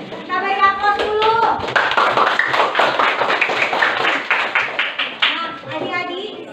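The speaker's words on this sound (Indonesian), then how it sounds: "Kita beri aplaus dulu." A classroom of children claps together in a sustained round of applause, dense and close, with a few young voices chattering over the clapping.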